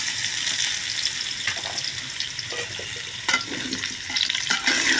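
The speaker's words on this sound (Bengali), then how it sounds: "আলুগুলো আগে তেলের মধ্যে একটু লাল লাল করে ভেজে ফেলবো।" Potatoes frying in oil in a home kitchen give off a steady, close crackling sizzle that runs throughout, with a few sharper pops and stirring clatters near the end and no talk.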